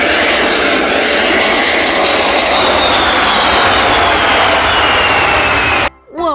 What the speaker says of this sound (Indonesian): Lihat teman-teman, di sini ada pesawat tempur.